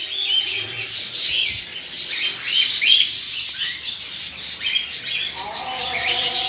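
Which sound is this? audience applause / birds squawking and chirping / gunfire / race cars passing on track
birds squawking and chirping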